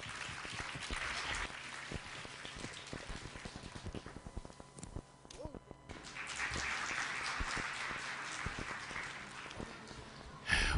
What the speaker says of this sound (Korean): 류태영 박사님을 박수로 모시도록 하겠습니다